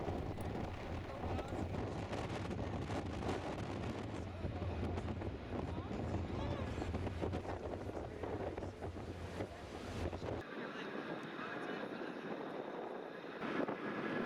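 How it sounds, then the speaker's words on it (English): Cool wind buffets the microphone on a choppy ferry crossing to Skye, a constant rushing roar mixed with sea wash and a low engine hum that drops away near the end. "It was a bit choppy and there was a cool wind"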